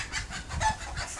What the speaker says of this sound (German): Schau, da oben ist eine Henne.